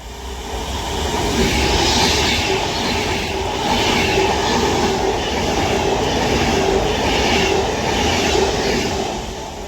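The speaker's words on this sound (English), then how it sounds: "Now passing through is going to be the early 1518 Avanti West Coast service to Liverpool Lime Street" An Avanti West Coast express to Liverpool Lime Street roars through a station on the Liverpool branch of the West Coast Main Line at Runcorn, a steady loud rush of wheels and rail noise holding for about ten seconds with no talk.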